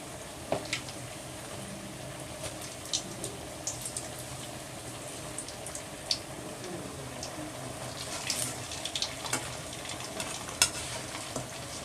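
Idli-batter bondas frying in hot oil, a steady low sizzle running throughout with occasional sharper crackles and light clinks of a utensil stirring, no talking.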